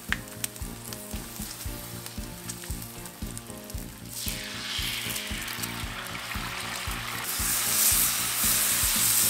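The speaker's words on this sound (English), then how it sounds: "Let's slap the bacon on the grill." Bacon and bagels buttered on both sides sizzle on a grill, a close, continuous crackling hiss with small pops that grows louder and brighter toward the end.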